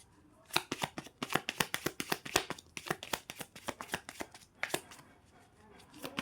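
Tarot cards are shuffled close up in quick, crisp bursts of flicking and slapping, a rapid irregular patter that thins out near the end.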